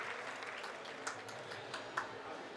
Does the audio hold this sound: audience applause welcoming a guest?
yes